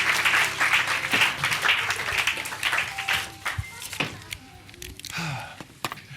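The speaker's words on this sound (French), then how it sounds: "Je pense qu'on peut l'applaudir très fort." An audience applauds Olivia after a spontaneous science storytelling performance, close, uneven clapping that is dense at first and then thins into scattered claps, with a voice and a few thumps toward the end.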